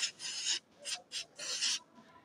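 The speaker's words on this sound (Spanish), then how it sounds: "porque la flecha tiene que estar bien lijada." A motor shaft from a window air conditioner fan motor being sanded with 180-grit sandpaper, giving four or five close rasping strokes in an irregular rhythm with short pauses, heard alone.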